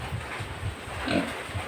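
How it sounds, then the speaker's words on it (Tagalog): Young piglets about two weeks old grunt softly in a pen, a few short low oinks repeating in an uneven rhythm, fairly faint and close. "Yan po ng mga baboy na yan ha."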